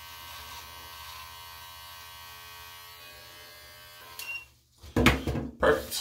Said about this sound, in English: So I usually just use a trimmer here.